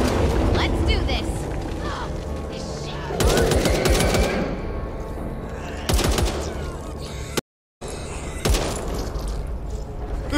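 Rifle gunfire in the zombie shooter Back 4 Blood, loud rapid bursts of automatic shots in several volleys with short pauses and one brief dropout, while game voices call out over the shooting.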